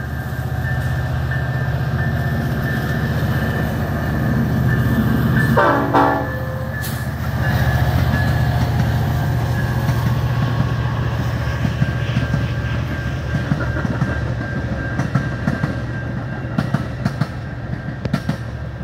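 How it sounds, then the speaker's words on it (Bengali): A local train pulls away from a station and approaches a road level crossing in Prospect Heights, its horn sounding once amid a loud, sustained rumble and rhythmic clatter of wagons rolling past. "ট্রেনটি স্টেশনে থেমেছিল, এখন ছেড়ে ক্রসিংয়ের দিকে আসছে।"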